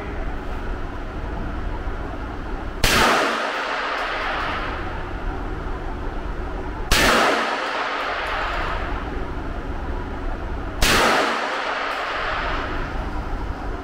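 Three loud indoor shots from a Derya MK-12 IPSC shotgun ring out, evenly spaced about four seconds apart, each a sharp blast with a brief echoing decay over a steady background hum.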